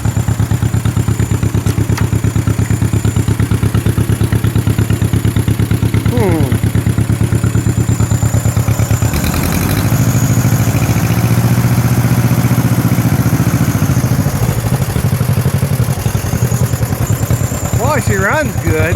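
John Deere MT tractor engine running close by with a steady, rapid chugging idle, loud and continuous, with a brief change in tone partway through and occasional voices mixed in.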